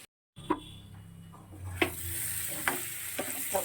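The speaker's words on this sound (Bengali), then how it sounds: "সবজিটা কষানো হয়ে গেছে খুব ভালো করে।" Vegetables sizzle in a pan as they are sautéed, a steady close frying hiss broken by several sharp clinks of the spatula stirring, with no talking.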